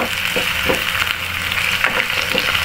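Garlic sautéing in a pan, a steady close sizzle and hiss with a few soft scraping stirs of a utensil, no talk.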